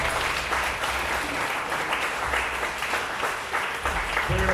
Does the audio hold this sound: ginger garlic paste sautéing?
no